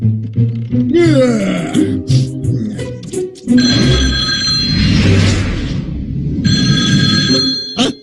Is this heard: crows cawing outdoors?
no